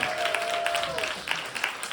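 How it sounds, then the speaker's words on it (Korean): Light clapping from a church congregation during a Korean sermon, thin and scattered beneath a speaking voice and brief exclamations. "이건 박수 한 번 해야 돼."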